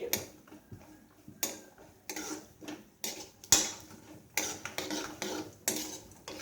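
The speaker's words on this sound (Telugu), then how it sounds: "ఈ విధంగా అటు ఇటు కదుపుకుంటూ వేయించుకోవాలి." Moong dal vadiyalu are fried in oil and turned with a ladle: irregular clinks and scrapes of the ladle against the pan, close and fairly quiet, with faint sizzle between the knocks and no voices.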